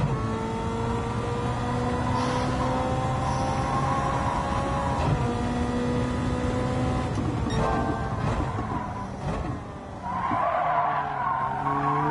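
Car tires skidding and squealing from understeer in Gran Turismo 7, a steady sustained screech over a droning engine that lasts most of the stretch, ending with a brief change in pitch, with no talk.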